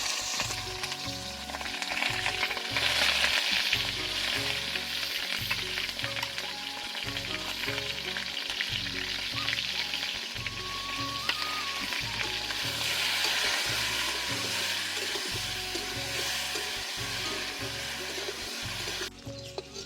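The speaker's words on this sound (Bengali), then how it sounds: "একটু নুন আর হলুদ দিয়ে আলুগুলো ভেজে নেব" Potatoes sizzling in hot oil with salt and turmeric in a large wok, a sustained close crackle with repeated stirring scrapes and a throbbing low hum, no speech.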